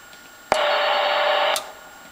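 Single steady CW carrier tone on a vintage HQ-150 receiver with a Q multiplier, clear and close, lasting about a second between sharp clicks, over a faint background hiss.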